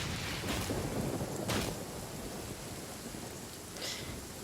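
Thunder rumbles through steady heavy rain in the video game Genshin Impact, a dense wash of storm noise with a couple of louder cracking bursts near the start and a faint chime later.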